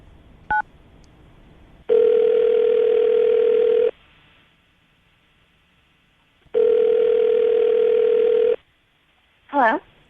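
A telephone line plays two long steady tones separated by silence, with a short keypad beep before them and a brief voice at the end, heard during a radio phone call.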